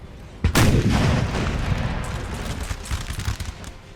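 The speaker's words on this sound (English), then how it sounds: "He's getting a few kills there with the canister shot." Cannon fire from a Napoleonic artillery battery in Napoleon: Total War, firing canister shot: a heavy boom near the start, then a long rumbling barrage with scattered crackling impacts fading slowly.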